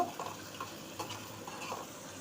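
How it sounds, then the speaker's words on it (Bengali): Chopped onion and tomato frying in hot oil, a quiet steady sizzle with a few soft stirring scrapes, alone and fairly faint. "এখানে আমি পরিমাণ মতো পেঁয়াজ কুচি আর টমেটো দিয়ে দিলাম ভাজার জন্য।"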